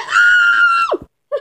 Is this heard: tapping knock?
no